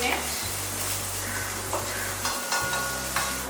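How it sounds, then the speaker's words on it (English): Ginger garlic paste and chopped chili sautéing in a pan after cumin seeds splutter, a dense steady sizzle over a low hum that drops out briefly partway through. "I will add my ginger garlic paste and my chopped chili. Just gonna saute this a minute."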